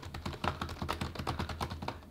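Steady typing on a laptop keyboard fitted with a soft keyboard skin cover, a dense run of quick, muffled key taps at an even pace, close and alone with no voices.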